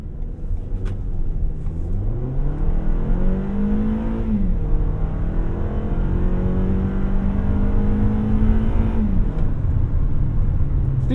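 A 2021 Toyota RAV4 Adventure AWD engine revving hard while driving, pitch climbing steeply, then holding high before dropping with a shift and rising again, loud and close inside the cabin with no talking.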